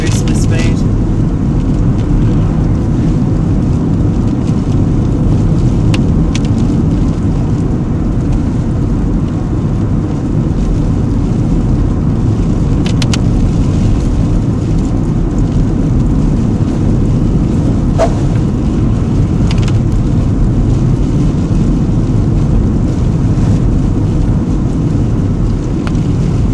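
Car interior on a road, engine and road noise a steady, loud low rumble throughout as the driver shifts into fourth gear, with someone talking over it.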